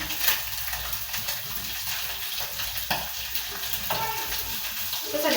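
Onions sizzling in a hot pan while cooking mboga for a Kenyan ugali meal, a steady close crackling hiss with occasional stirring scrapes and brief faint voices.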